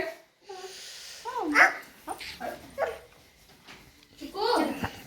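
A dog gives a few short, high yipping barks and whines, with people talking nearby.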